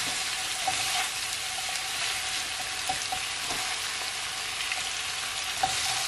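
Cabbage frying in a pan while being stirred for a Jamaican steamed cabbage dish: a steady, close sizzle runs throughout, with soft spoon scrapes scattered through it.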